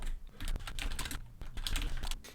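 Steady, fast typing on a computer keyboard while a prompt is entered into ChatGPT, dense close key clicks with brief pauses and no talk.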